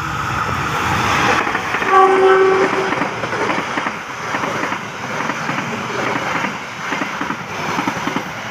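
A train from Bandung bound for Surabaya Gubeng passes close by with a loud horn blast and rolling rail clatter that fades into a steady rumble.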